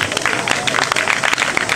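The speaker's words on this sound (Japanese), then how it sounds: "どうぞ皆様大きな拍手でお迎えください" Audience applause welcomes a band onto the stage at the Australia & Japan Friendship Festival 2018, a dense, steady crackle of many hands clapping throughout.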